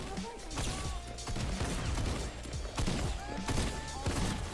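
Rapid bursts of automatic gunfire in the video game Fortnite, loud and dense across the whole stretch, with thuds and impacts mixed in and faint game tones in the background.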